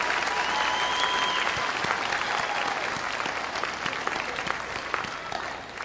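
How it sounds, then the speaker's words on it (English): Sustained audience applause for graduates at a university commencement ceremony, a dense, steady clapping that lasts the whole stretch, loud and close, with no voices over it. "Would all of the friends, relatives, and parents give these people another outstanding round of applause"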